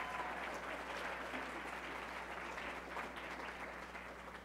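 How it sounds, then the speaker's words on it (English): An audience claps in a hall, a dense, even wash of applause from many hands that holds steady and then begins to thin slightly toward the end. "So a round of applause for our police department and our parks department."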